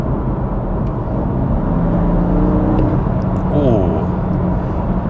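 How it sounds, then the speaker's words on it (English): BMW M2 Competition engine in Sport Plus mode, a loud continuous engine drone with a brief rising whir near the middle, heard from inside the car, with a voice speaking faintly at times. "I think this engine has quite a nice little sound to it"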